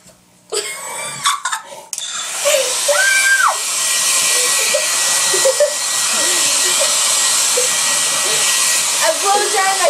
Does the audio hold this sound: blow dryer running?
yes